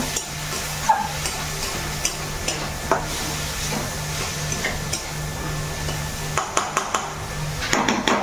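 Ivy gourd (kunduri) fries with tomato in a pan, a steady sizzle under repeated clinks and scrapes of a spoon stirring against the metal, with a low hum beneath.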